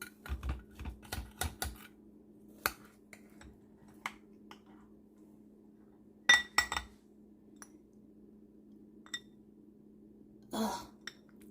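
Homemade apple crisp is scooped out of a pan with clinks and scrapes of a utensil against the dish, scattered sharp taps in bursts with quiet pauses, close and moderate.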